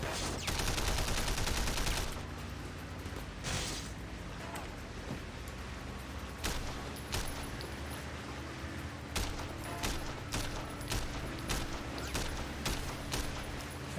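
Sniper and other gunfire in the Sleeping Dogs video game, with a loud burst at the start followed by scattered sharp shots over a low game background.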